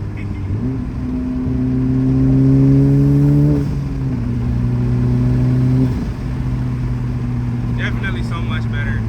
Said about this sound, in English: I love boost noises.